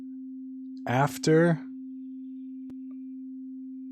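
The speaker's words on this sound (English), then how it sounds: "So there is our first sine wave" A steady, pure tone hums continuously at one pitch, briefly interrupted by a short spoken word near the start.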